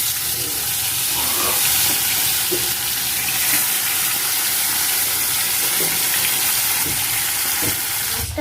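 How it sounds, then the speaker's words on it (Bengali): Fish frying in a pan, a dense, constant sizzle with a few faint clinks and stirs, close and steady, with no one talking. "ওখানে ভাজা বসিয়েছি"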